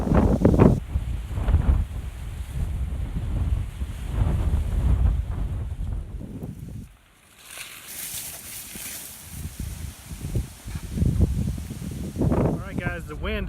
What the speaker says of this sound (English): The wind is still really intense